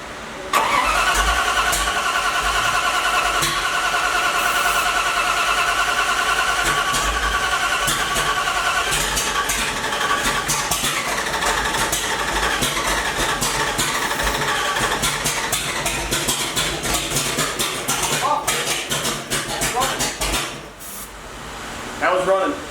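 A supercharged 8-71 engine on a 1970 Dodge Charger R/T with FiTech fuel injection starts and runs steadily near at hand, a loud continuous mechanical roar with voices talking over it before it cuts off near the end.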